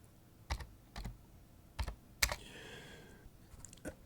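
Keys on a computer keyboard are struck as a terminal command is entered, producing a handful of separate, deliberate clicks in a quiet room.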